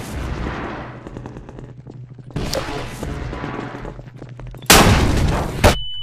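Gunfire in Half-Life 2 Episode 1 comes in loud bursts: a heavy volley at the start, another burst midway and a sharp, very loud blast near the end over a low droning hum.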